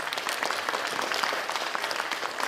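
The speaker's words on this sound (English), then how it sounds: "Give him a big round of applause." Sustained applause from a conference audience at the Nor-Fishing Conference, steady dense clapping at moderate level for the whole stretch, with no speech over it.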